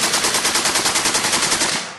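Rapid machine-gun fire from a Spanish-language audio drama, loud and close: a steady burst of dozens of evenly spaced shots with a reverberant, enclosed ring, stopping near the end with no voices.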